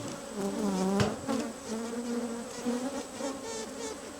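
Bees buzzing loudly and steadily at an opened hive on a farm, a dense close drone with shifting pitches as individual insects fly near, continuing alone without talk.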